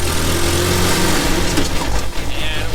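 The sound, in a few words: mini military jeep engine accelerating through gears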